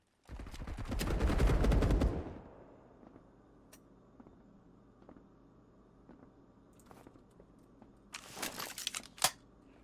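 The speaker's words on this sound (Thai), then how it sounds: "ปืนยิงทีละนัด" Gunfire in the video game Marauders opens with a loud, rapid burst of shots. A few scattered single shots follow, then another sharp flurry near the end.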